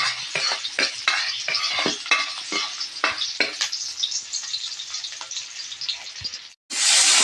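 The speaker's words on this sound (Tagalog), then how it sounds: "Magisa tayo ng bawang, sibuyas, luya" Garlic, onion and ginger sauté in a pan with a busy close sizzle and rapid clicking spatula scrapes, then a brief drop before a bright, loud hiss surges at the end.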